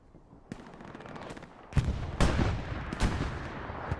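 Artillery shells land in Hell Let Loose, producing several sharp, loud blasts with rumbling tails. Smaller impacts come first, then heavier booms at irregular intervals.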